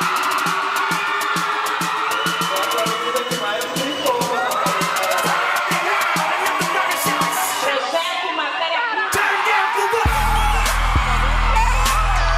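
Crowd of supporters at a hip-hop education award announcement cheering and whooping loudly, a dense continuous roar with claps and shouts, joined by a deep bass tone near the end.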